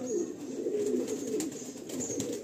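Show pigeons of the same generation coo continuously at close range, a soft warbling drone with no talking over it.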